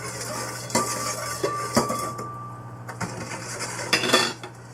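A spoon stirs slime ingredients together in a bowl, giving a run of close, irregular clinks and scrapes against the dish with no talking.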